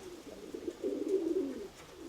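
Pigeons in a home loft coo in soft, low, throaty murmurs, rising a little in the middle and then fading, with a faint background hum.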